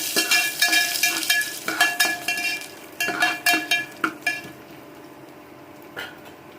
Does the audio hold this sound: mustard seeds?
yes